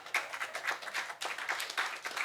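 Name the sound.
audience clapping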